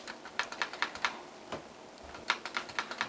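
Computer keyboard keys pressed in quick bursts, light clicky taps in two short runs separated by a brief pause, close and fairly quiet.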